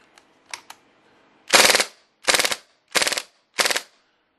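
HFC/TSD MAC-11 open-bolt airsoft submachine gun firing four loud semi-automatic single shots, each with a rattling mechanical clatter, after a few faint clicks.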